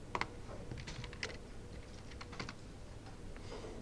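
Typing on a computer keyboard: close, quiet clicks and taps in irregular bursts with short pauses between them, no voices.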